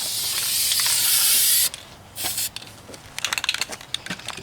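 Aerosol spray hissing steadily and loud from Krylon Color Master paint in Italian olive onto a dented 20mm ammo can, one long continuous burst that cuts off, followed by quieter short spray puffs and light tapping.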